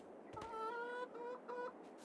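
Chickens cluck in Farming Simulator 22, a few short tonal calls close by, one after another over a faint background, with no speech.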